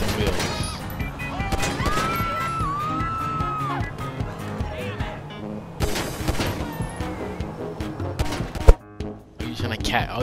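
Rapid bursts of gunfire aimed at a car's wheels during a GTA 5 Online match, cracking repeatedly over game music and engine noise, with one sharp loud shot near the end and voices talking throughout.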